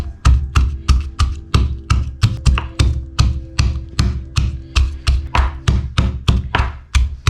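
Shallots, curry leaves and garlic being crushed by hand, a steady run of about twenty firm, evenly spaced pounding thuds, loud and close with no talking.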